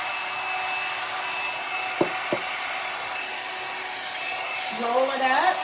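A hair dryer blows steadily on conditioned hair during a volume blow-out, making a continuous close roar. Two short knocks sound partway through, and a wavering whine rises near the end.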